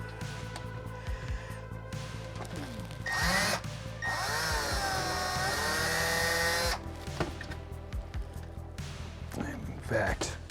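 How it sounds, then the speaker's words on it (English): A power drill with a slightly larger bit widening pilot holes in a Neutrona Wand prop, a whining burst of several seconds between short bites and handling clatter, close and fairly loud. "I'm actually going to use these as pilot holes for a slightly larger bit, just to get them open enough that I can actually take those screws out"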